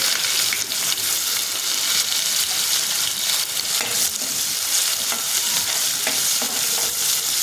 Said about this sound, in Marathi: आता त्यामध्ये मी लसूण आणि कांदा टाकून ते छान परतून घेणार आहे